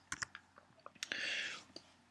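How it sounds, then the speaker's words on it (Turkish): Several light, crisp clicks of computer keyboard keys, including presses of the Tab key while switching between open Photoshop documents, close and quiet with a brief soft rustle between them. "Basıyorum ve klavyeden tab tuşuna basıyorum."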